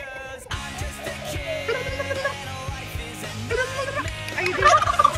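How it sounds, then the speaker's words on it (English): Turkeys gobble in rapid, loud, close bursts that overlap and repeat throughout, with no talking over them. "You're our turkeys."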